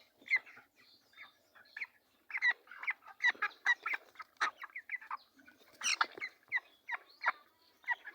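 Broiler chickens in a poultry house on a farm give a steady run of short, repeated clucks and squawks, fairly close and without talk.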